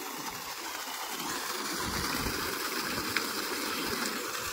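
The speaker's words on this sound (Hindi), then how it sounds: "दूसरा ये पानी जा रहा है इसका" Water gushes steadily from a motor-driven farm pump pipe in hilly country, a constant broadband rush with no pauses, heard fairly close and alone.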